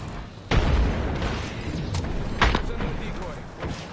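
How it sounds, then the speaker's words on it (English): Apex Legends game battle with a grenade blast, sharp booming bursts landing twice amid ongoing combat noise, while a voice talks over the action. "Look out, grenade."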